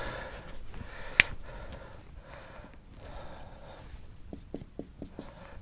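A pen writing down questions on paper, faint scratchy strokes and short taps at close range, with a sharp click early on and soft breathing in between.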